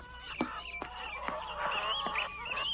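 Farmyard fowl honking and squawking in a run of loud, separate calls, several overlapping cries from birds close by, with no talk.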